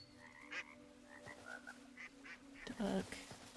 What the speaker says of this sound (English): More frog.